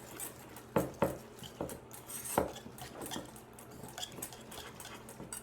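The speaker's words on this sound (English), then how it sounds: "we're going to add 2 tablespoons of EVOO, or extra virgin olive oil, and give that a good stir" Extra virgin olive oil being stirred into a vinaigrette, quiet clinks and taps of a utensil against a bowl in an irregular rhythm, close and faint with no talking.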